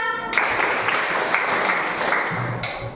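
A classroom of students claps together, a dense, steady burst of many hands that holds for nearly three seconds before tapering, close and fairly loud.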